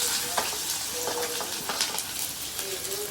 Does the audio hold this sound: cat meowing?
no